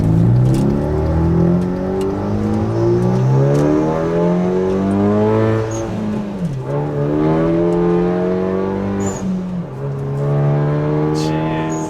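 2016 Kia Forte running on E85 with a blow-off valve, engine revving hard through the gears with rising whine and a shift dip midway, loud and close from inside the cabin.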